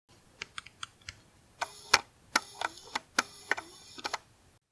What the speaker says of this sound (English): it has a clicky sound when it's starting and stopping